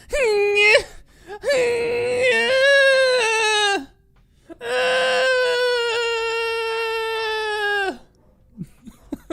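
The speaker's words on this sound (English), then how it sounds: "my dogs are freaking out." Dogs whine and yelp in long, rising, high-pitched cries, two extended bursts with short yips between them, close and fairly loud.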